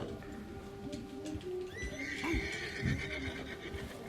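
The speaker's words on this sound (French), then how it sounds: "L'ours a effrayé votre cheval." A horse in Red Dead Redemption 2 neighs in fright at a nearby bear, one rising then falling whinny with snorts over game ambience and faint hoof clops.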